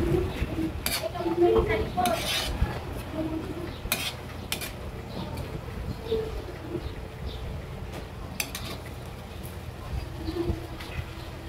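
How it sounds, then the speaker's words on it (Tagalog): Sautéed sinarapan (tabios fish) is stirred in a pan, with intermittent utensil scrapes and clinks against the metal, while birds coo in the background. "Haluin na naman natin."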